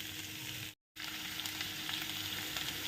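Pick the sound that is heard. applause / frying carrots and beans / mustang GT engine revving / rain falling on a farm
frying carrots and beans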